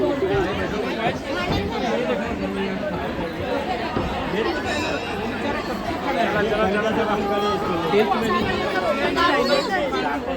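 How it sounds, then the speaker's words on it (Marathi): Constant dense chatter of a large crowd at Jivdani temple fills the space, many overlapping voices close by at a steady level throughout. "किती गर्दी आहे."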